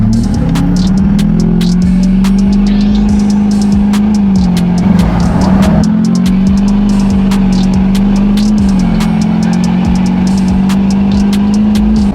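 A Duramax pickup truck towing a trailer, its transmission slipping: a steady, loud engine drone that rises and dips in pitch as the revs flare and fall, heard close throughout with no talk.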